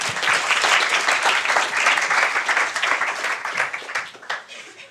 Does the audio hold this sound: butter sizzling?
no